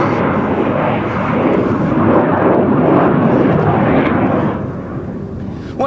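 An M-346 jet trainer roars past at an air show in Ostrava, a loud, sustained broadband engine rumble that swells and then eases slightly toward the end.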